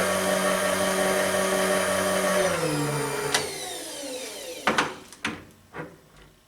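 A milling machine running an end mill along a dovetail on a lathe tool blank gives a loud, steady tonal whine that winds down after a few seconds, followed by several sharp clunks and knocks close by.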